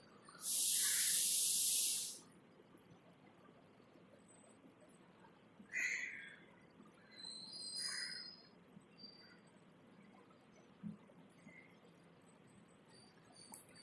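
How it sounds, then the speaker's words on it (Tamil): Gulab jamun dough balls dropped into moderately hot oil set off a loud, bright sizzling hiss lasting about two seconds, followed by quieter, scattered crackles and spits of frying. "ஆல்ரெடி நான் எண்ணெய் காய வச்சுட்டேன். மிதமான சூடு இருந்தால் போதும். அதில் நம்ம எடுத்து வச்சுருக்க உருண்டைகளை பிடிச்சி வச்சுருக்க உருண்டைகளை சேர்த்திக்கலாம்."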